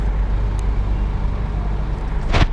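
Heavy road noise at a crowded border crossing lined with trucks, with a steady low rumble of big engines and a brief hiss near the end, no voices.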